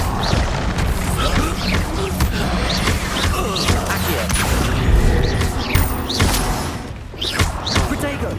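Repeated spell blasts from Confringo and Incendio in the video game Hogwarts Legacy go off as booming, crashing impacts amid dense, loud combat noise, with a voice shouting incantations over the top.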